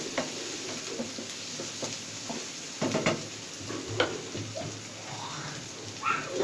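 Green chillies stirred into frying potato sabzi in a pan, with a steady low sizzle under scattered scraping stir strokes and clinks, close and moderately quiet.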